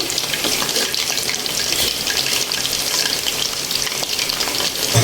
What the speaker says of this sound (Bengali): তো এই যে আমার এখানে মাংস ফ্রাই করতেছি।